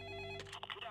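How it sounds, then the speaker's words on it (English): A telephone rings in the Payday 2 bank heist, a steady electronic trill heard for a moment before other game sounds and noise cut in, fairly quiet overall. "Someone answer the phone!"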